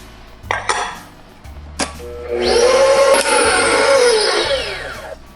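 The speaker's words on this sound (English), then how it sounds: "Now we add the brown sugar and then once again whisk until there are no lumps." Brown sugar being whisked into gluten-free gingerbread batter in a bowl, starting with a few sharp clinks of the whisk, then a steady scraping, rattling whir of rapid whisking against the bowl for several seconds; close and fairly loud, with no voices.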